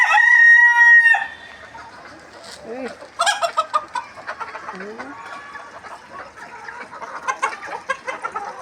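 Backyard hens and a native rooster make themselves heard, a loud crow opening the stretch before it cuts off, followed by scattered clucks and soft cackles from the flock nearby, with bird calls repeating intermittently.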